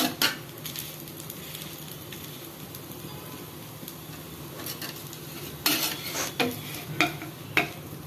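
A dosa made from ration toor dal batter cooking on a pan with oil drizzled around it, a quiet steady sizzle broken by a few sharp scraping and clinking spatula strokes toward the end.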